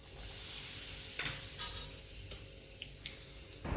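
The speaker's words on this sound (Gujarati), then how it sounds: "તેમાં જીરું નાખી અને થોડી એવી હિંગ નાખી સારી રીતે વઘાર કરી લેશું" Cumin seeds and asafoetida crackle in hot oil as a tempering for a stuffed cabbage dish, heard as a soft, close sizzle with scattered pops and light stirring clicks, fairly quiet throughout.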